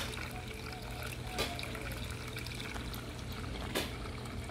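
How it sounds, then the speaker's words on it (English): Cold tap water pouring into a bucket being filled for hydro dipping, a steady, fairly quiet stream running continuously with two brief clunks. "So now just fill in the bucket,"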